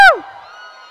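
A brief loud cheer erupts from an audience at a large seminar gathering, a single sharp shout that quickly fades into a lingering hall echo.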